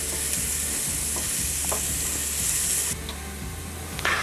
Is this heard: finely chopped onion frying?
yes